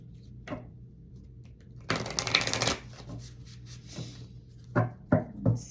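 Tarot cards are shuffled by hand in a short riffling burst, followed by a few scattered soft card taps and rustles, close up and fairly quiet.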